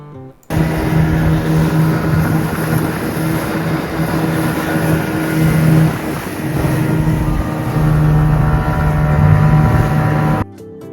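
A motorboat ferrying resort visitors at Constance Belle Mare Plage in Mauritius, its engine a loud, steady drone with wind buffeting the microphone, running unbroken before cutting off abruptly.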